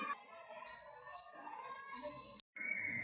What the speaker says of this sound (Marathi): जेव्हा एखादा अडथळा येतो तेव्हा हे बझर वाजते.